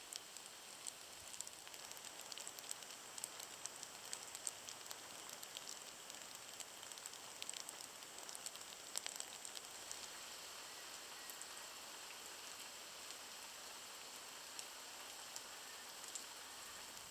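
Steady rain falls outdoors in the Manitoba wilderness near Baker's Narrows, a faint, even patter with occasional louder drips, continuing alone without voices.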